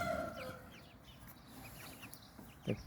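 Chickens clucking softly at a distance, with a brief rooster call at the start and a short squawk near the end over quiet background noise.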